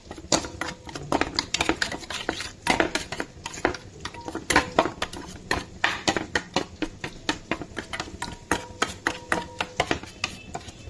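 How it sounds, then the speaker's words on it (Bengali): A spoon clatters rapidly and steadily against a bowl while yogurt is mixed with chili powder, giving a continuous stream of close, bright clinks and scrapes with no talking. "এবার আমি দইটাকে করে নেবো ভালো করে মিক্স।"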